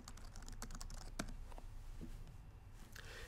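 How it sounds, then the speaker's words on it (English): Close, quick taps on a computer keyboard as a DNS name is typed into a web browser on a Mac, an irregular run of light clicks over a steady low hum, with no speech. "just type in the DNS name"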